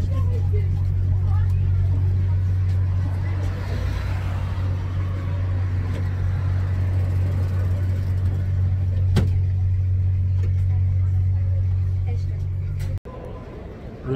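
Vehicle arriving and driving with a steady low engine hum and road rumble, continuous and close, with a brief dropout near the end.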